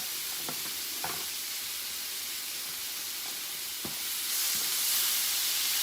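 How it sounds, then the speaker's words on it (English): About four garlic cloves sauté in a pan over medium heat, a soft, even sizzle with a few sharp knocks of a utensil against the pan and a hiss that swells near the end. "about 4 cloves of garlic. I'm going to saute those up."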